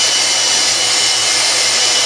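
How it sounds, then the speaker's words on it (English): An electric sander runs steadily against a stainless steel screw, a continuous close, bright whirring hiss with no pauses, no talking. "Now the sander to make it a little more smooth."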